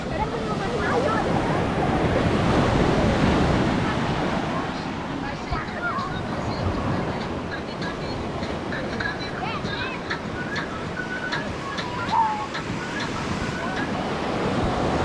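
Ocean surf rolls in at Diamond Beach on Nusa Penida, Bali, a broad, continuous roar of waves mixed with gusty wind on the microphone and distant voices of people playing in the water.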